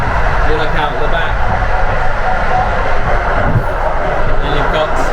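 Passenger train running through Poland, heard from the rear wagon looking out the back: a loud, continuous rumbling roar of wheels and carriage, with faint higher clatter on top.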